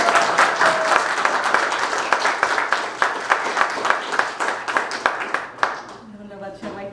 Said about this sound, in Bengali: আমরা খুব জোরে হাততালি দিয়ে